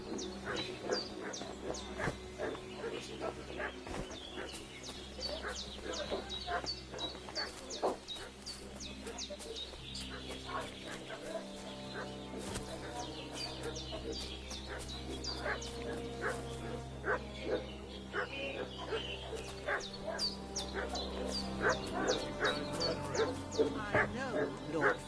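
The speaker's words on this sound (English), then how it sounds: "What's that dog making such a fuss about?" A dog barks repeatedly in a village in Kingdom Come Deliverance 2, sharp yaps and whimpers scattered through the scene, with a rooster crowing and birds nearby and some talk underneath, at a moderate distance.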